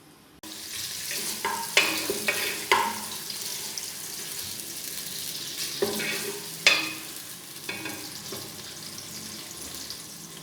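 Chopped onions fry in about half a cup of oil for a spiced turnip-and-mutton curry, giving a steady close sizzle broken by several sharp stirring scrapes and clinks, with no talking.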